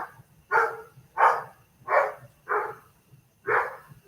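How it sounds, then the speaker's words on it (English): A neighbor's dog across the street barks five times in a slow, fairly even rhythm, with a moderate volume that sounds a little distant against a quiet background. "Neighbor dog across the street."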